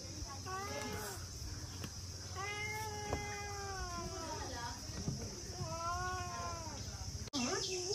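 Pet cat meowing several times in drawn-out, wavering calls close by, with gaps between, over a steady insect-like hiss and low background hum, ending in a sharp click.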